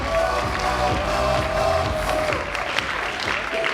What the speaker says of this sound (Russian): Болельщики приготовили ладошки, чтобы аплодировать.